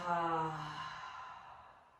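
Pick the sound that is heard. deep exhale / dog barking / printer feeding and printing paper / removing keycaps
deep exhale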